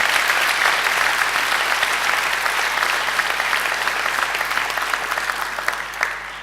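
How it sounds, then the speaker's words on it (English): A graduation audience gives a singer a full round of applause, dense steady clapping from a large crowd that fills the whole stretch and tapers slightly toward the end. "Let's give Angela another great round of applause."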